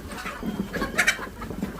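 Country hens cluck and squawk in short agitated bursts while someone tries to catch them outdoors, close and fairly faint, with a louder flurry midway.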